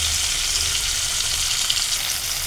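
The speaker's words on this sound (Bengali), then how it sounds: "মাছ ভাজা হয়ে গেছে" Hilsa fish frying in oil gives a brief, steady, close hiss of sizzling with no pauses.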